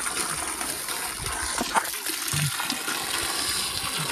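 Cold water running steadily at a village drinking spot, a continuous close gush with a few brief splashes and faint background voices.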